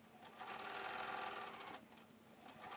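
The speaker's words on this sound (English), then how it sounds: "So now we're just stitching around the top of the waistband." A sewing machine stitches around the top of a waistband on a pinafore, running as a steady close whirring hum with a brief slowdown before picking up again.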